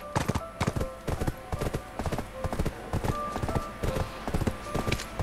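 Horse hooves clip-clop in Black Desert Online, a fast, steady run of close, sharp hoofbeats that carries on throughout with no voices.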